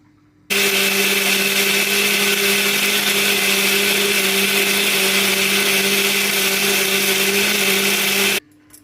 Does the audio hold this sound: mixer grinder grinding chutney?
yes